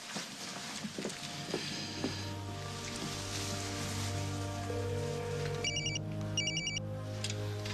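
A telephone rings on an outgoing call, two short bursts of electronic ringing near the end, faint and distant under a low steady hum and background room noise.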